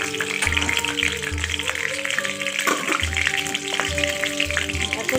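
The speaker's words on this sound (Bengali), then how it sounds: "কাঁচা লঙ্কাটা নেড়ে দিলাম, তাহলে ফাটবে" Green chilli crackling in hot oil with five-spice seeds, a dense continuous hiss and sizzle with scattered pops, loud and close, over a low intermittent hum.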